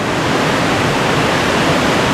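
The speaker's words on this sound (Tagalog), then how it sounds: "Lakas yung hangin." Strong typhoon wind without rain roars steadily and loudly, a dense rushing noise with no pauses and no voices.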